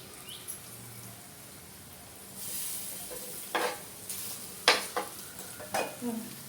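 Masala cooking in a pan gives a soft, low sizzle that swells as a spoon stirs it, with several sharp scrapes and clinks of metal against the pan.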